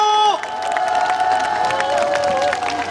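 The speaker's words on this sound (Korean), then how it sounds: "박수 부탁드립니다. 박수!" A concert audience at a temple music event cheers, whoops and shouts loudly, with children's voices in the mix, while sustained tones ring underneath, then settles into a steady crowd roar across the whole stretch.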